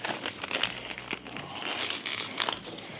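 A bag of Amarillo hops for a homebrew IPA kit being handled and opened, giving close, quiet crinkling and crackling of packaging in irregular bursts with no talking.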